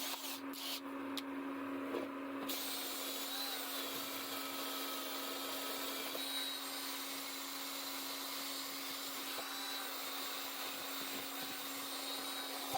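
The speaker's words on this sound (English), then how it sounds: "for those really awkward spots, you can get a twisted wire knotted wheel attachment for your drill" A drill fitted with a twisted wire knotted wheel attachment runs continuously with a steady droning whir and a faint underlying hum, moderately close, with brief scratchy contact at the start.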